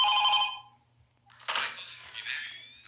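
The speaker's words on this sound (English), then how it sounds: "Phone call scared me." An old-fashioned telephone bell rings briefly in the Five Nights at Freddy's 2 reimagined game, clear and loud, then stops and gives way to clattering game noise.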